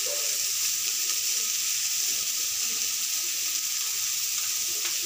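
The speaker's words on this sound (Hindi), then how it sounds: "इसमें हल्दी डाल दिए, नमक डाल दिए हैं और इसे हल्का सा भून रहे हैं" Steady, even sizzling hiss of vegetables frying with turmeric and salt in a pan, constant and close with no talk.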